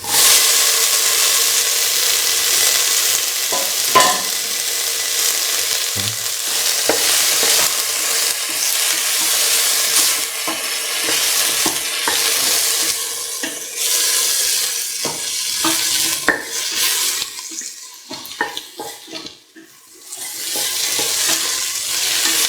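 Tomato pieces and green chilies are stirred into a frying beef mixture with salt, making a loud continuous sizzle with repeated scraping stirs that fade briefly near the end. No one speaks.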